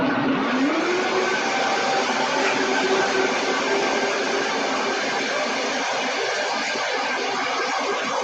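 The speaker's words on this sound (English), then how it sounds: "And then we're just going to blend this." A kitchen blender blends handfuls of spinach, a steady loud whirring motor with a brief rising pitch at the start, then an even churning roar throughout.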